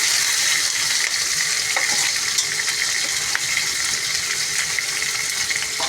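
A tempering of onion, green chili and red chili frying in a pan, a loud, continuous bright sizzle with a faint watery rush and occasional soft stirring clicks, close and uninterrupted by voices.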